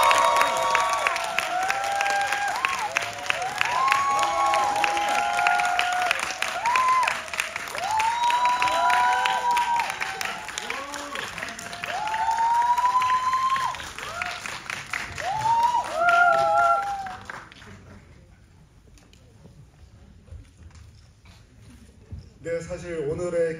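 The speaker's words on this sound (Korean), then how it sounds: "오늘의 게스트분들 큰 박수로 맞이하겠습니다" Audience applause at a Korean film guest-visit screening in a Yongsan CGV cinema hall, a sustained wash of clapping with talk and musical tones over it for about seventeen seconds before it drops away to near silence.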